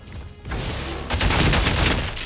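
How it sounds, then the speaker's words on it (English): Rapid gunfire from Splitgate 2, a portal-based shooter, with a dense, loud burst of shots that builds to a full volley in the second half. "then you can shoot through the portal"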